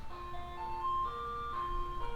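An ice cream truck, one converted from a short bus, passing nearby with its jingle playing, a bright tinny melody of sustained tones over a low engine rumble.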